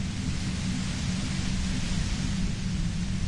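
Radio device in the video game Disco Elysium emitting steady broadband static hiss with a rumbling low end, continuous and even in loudness throughout with no voices.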